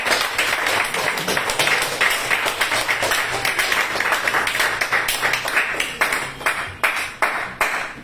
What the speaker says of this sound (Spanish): Ese aplauso para el Rey de Reyes, que es un fuerte